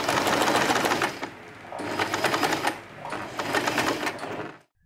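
Sewing machine stitching a fabric bow onto a scrunchie piece, running in three steady bursts with brief pauses between them, close and fairly loud, ending in silence.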